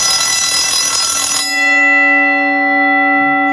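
Loud electric bell set off by an adapted timer, ringing continuously and then cutting off, leaving a clear sustained tone that slowly fades away.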